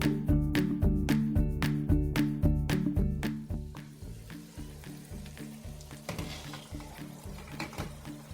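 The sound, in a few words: garlic spicy seafood mix simmering in a pan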